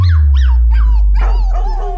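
A dog barks and yips in quick, sharp, close bursts, the calls turning whiny toward the end, over a loud low rumble.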